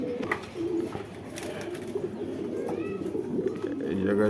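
Pakistani Giribaz pigeons kept in cages give low, soft coos, heard at moderate distance over a continuous busy background hum with faint voices around.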